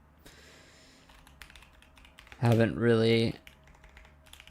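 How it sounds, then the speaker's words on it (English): Keyboard typing while coding a C and OpenGL game engine, soft keystrokes in the background before and under a short burst of close speech. "Yeah, I'm sorry if I mess up typing a lot today."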